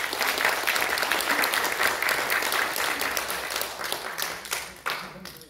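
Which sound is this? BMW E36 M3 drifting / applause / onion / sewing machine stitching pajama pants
applause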